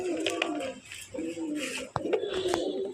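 Budapest racing pigeons coo in repeated soft, throaty phrases close by, several calls overlapping, with a few faint clicks and rustles.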